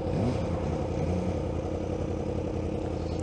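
A 2016 Suzuki GSX-S 1000 naked motorcycle engine runs at a steady idle with a faint rev at the start, mechanical clatter under a constant low rumble, no voices.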